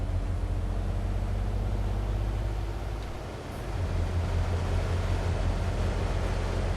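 A truck engine in Euro Truck Simulator 2 drones steadily with a loud low rumble, dipping briefly midway before returning to a constant hum, with no voices.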